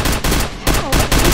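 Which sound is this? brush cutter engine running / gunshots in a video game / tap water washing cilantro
gunshots in a video game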